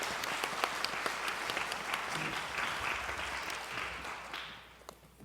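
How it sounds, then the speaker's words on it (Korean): A church congregation applauds to welcome a visiting pastor, dense steady clapping from many hands in a worship hall that fades off near the end. "우리 박수로 맞이하도록 하겠습니다."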